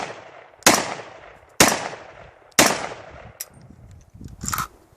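Three loud, sharp gunshots fire in an even rhythm about a second apart during a bullet shooting test, each followed by a short decaying ring, then quieter metallic clicks and handling noise.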